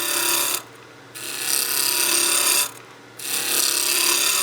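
A wood lathe turns a wooden cylinder for a Christmas gnome, the gouge shaving steadily in two long scraping passes with brief pauses between, close and fairly loud.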